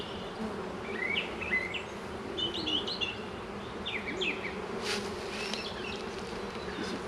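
Honey bees buzz steadily around an open hive colony during a queen castle mating nuc setup, a dense continuous drone close by with a few faint bird chirps in the background.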